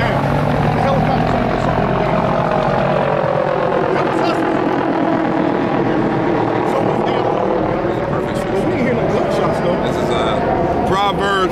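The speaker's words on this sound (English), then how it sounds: "The helicopter. Something went down. The helicopter." A helicopter flies overhead with a loud, steady rotor and engine roar filling the whole stretch, its pitch shifting slightly as it passes, while a person talks over it.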